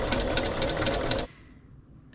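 Sewing machine stitching fabric in a rapid, steady mechanical whir for about a second before stopping abruptly, close and loud, leaving a quiet room.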